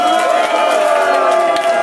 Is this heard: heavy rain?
no